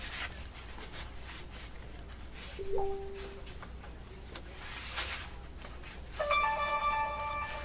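A mobile phone rings with a bright electronic ringtone near the end, preceded by paper rustling and a short beep as cards are handled in a quiet room.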